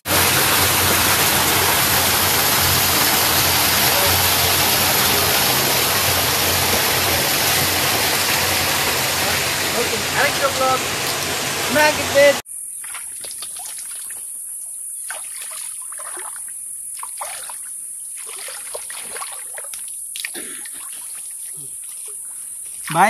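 A waterfall in Tripura roars in a steady, loud broadband rush, then gives way abruptly to quieter chirring insects with a brief voice.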